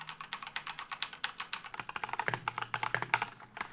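Fast typing on an Asus ROG Flare 2 Animate mechanical keyboard with linear red switches, a dense run of soft, quick keystrokes close up with no clicky switch sound, and no talking.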